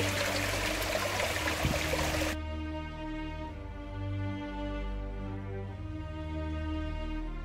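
Water from a herbal spring on Kanjamalai hill runs with a steady, close trickle for a couple of seconds, then gives way to a quieter, constant low hum.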